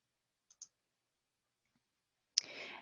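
A computer mouse gives two faint, quick clicks, then a sharper click followed by a short rustle of handling, in an otherwise quiet room.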